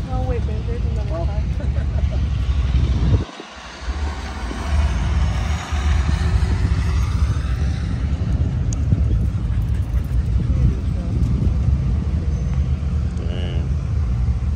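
Cars roll past at a European car meet full of bagged cars, a steady low engine and road rumble running throughout, briefly dipping once, with people talking close by over the passing traffic.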